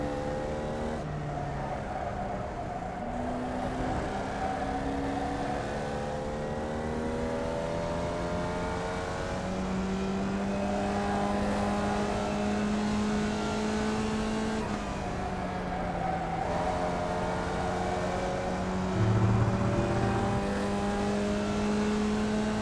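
Buzzing Formula Vee race car engines drone steadily down the front straight at Okayama International Circuit in iRacing, several cars' tones layered and shifting pitch as they rev and hold speed.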